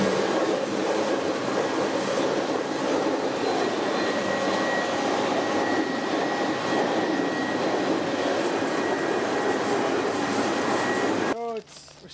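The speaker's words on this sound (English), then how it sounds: "Stopping to let another train pass." Steady rumbling roar and clatter of a freight train rolling past a stopped grain car on a Saskatchewan railway line, loud and continuous for nearly the whole span before cutting off abruptly near the end.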